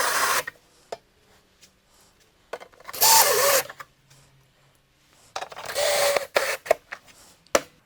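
A drywall screw is driven through a panel into a wooden buck while joining pieces of a curvy seat, heard as a few loud close whirring bursts of a power driver separated by quiet pauses.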